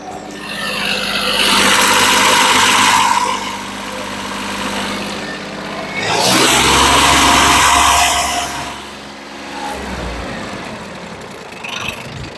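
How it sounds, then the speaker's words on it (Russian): Yanmar Ke3 mini tractor engine running steadily up close, with a low idle rumble that swells twice into louder revving bursts before settling back, no talk over it. "Сейчас дам послушать, как работает мотор."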